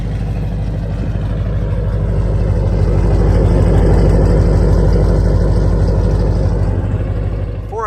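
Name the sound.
truck engine idling with long tube headers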